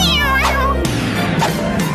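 A black and white cat meows up close, one long, loud, whining call followed by shorter cries.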